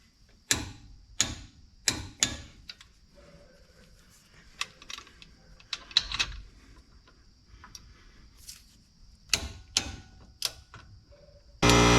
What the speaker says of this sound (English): torque these caliper bolt pins 24 foot-pounds